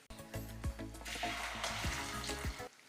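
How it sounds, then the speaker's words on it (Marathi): Okra frying in oil for a dhaba-style potato and okra dish, giving a steady close sizzle with a few soft clunks of stirring and no talk. "ही भेंडी इथे तळली जाते"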